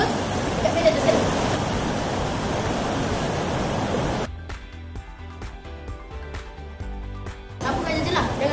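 Water falls onto a homemade collector and runs into a plastic bottle funnel, making a steady broadband rush. The rush drops away briefly while a voice speaks, then returns.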